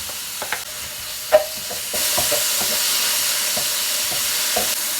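Chicken pieces frying in a pan over chopped onion and oil, a steady broad sizzle that swells up after the first two seconds and holds, with a few sharp clinks and stirring knocks early on, close and alone.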